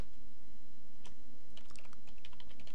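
Someone types on a computer keyboard while using Windows 8: a brief, quiet cluster of light key taps, some isolated and some in a quick run, over a steady low hum, with no talking.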